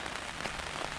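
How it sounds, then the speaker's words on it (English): Steady rain patters on a camping tent during wild camping, a dense continuous hiss of drops striking the fabric close by with no voices. "listen to the rain hitting it, watching all the raindrops whiz down"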